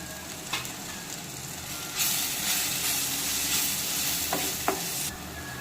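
Spices such as coriander powder, chilli powder and garam masala stirred into raw banana frying in a pan, steady close sizzle and hiss with scraping stirs and a brighter burst of frying noise midway.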